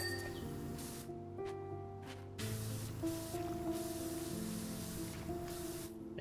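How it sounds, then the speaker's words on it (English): Pressure washer nozzle spraying in Powerwash Simulator 2, a steady broadband hiss that runs through the clip over layered game music tones, dipping briefly near the start before resuming strongly. "we can just as easily cover the ground with the base nozzle"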